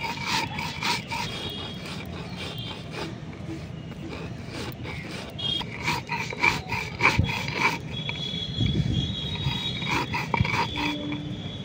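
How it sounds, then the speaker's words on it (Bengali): Coarse grinding of natural hair dye ingredients into a grainy powder: repeated rasping, scraping strokes in an irregular rhythm, close and fairly steady, with no talking. "ঠিক এইরকমভাবে গুঁড়ো করে নিতে হবে, একদম মিহি না করলেও হবে।"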